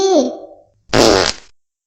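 A loud, brassy fart follows a shorter squeaky one after a brief pause, both close and sharp with no talking.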